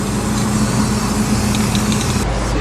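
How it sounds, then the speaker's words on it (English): A steady electric fan blows workshop fumes away, a constant broadband whoosh with a low hum that runs evenly throughout, close and fairly loud, with faint clinks in the background. "Pardon the fan noise"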